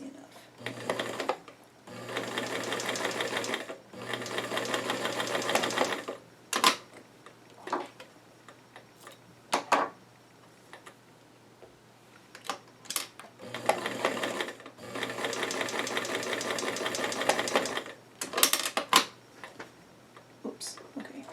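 A sewing machine straight-stitches small doll-sized jeans in short bursts of rapid whirring, separated by pauses with clicks and handling noises, close by.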